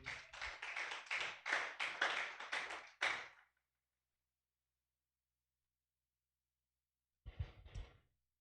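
A church congregation bursts into applause for about three seconds, a dense, fairly close round of clapping that fades out. After a long silence a short murmur of voices follows.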